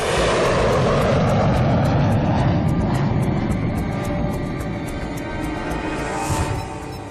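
A passenger plane takes off for Dubai with a loud, continuous engine roar that stays close and heavy for the whole stretch and eases slightly near the end, with no voices.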